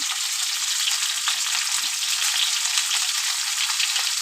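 Oil sizzles hard in a pan while potol posto cooks with a mustard, poppy seed and green chilli paste, a loud, steady crackling hiss that runs unbroken throughout.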